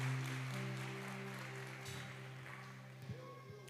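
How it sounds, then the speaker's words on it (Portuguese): A church congregation applauds for Jesus, with soft, scattered clapping over sustained keyboard chords that gradually fades into the music. "Você pode aplaudir a Jesus?"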